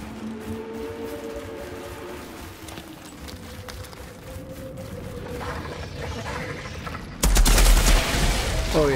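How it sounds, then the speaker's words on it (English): Gunfire inside a cage in the video game Outriders: a quieter stretch of ambient noise with faint tones, then a loud, dense burst of shooting erupts near the end and keeps going. "shooting a gun in a cage didn't blow your eardrums out"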